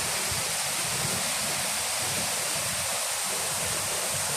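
A clear spring-fed stream in Barangay Laguan, Liliw, Laguna, flowing as a steady, loud, broadband rush of water that runs without a break from start to end, heard close and alone.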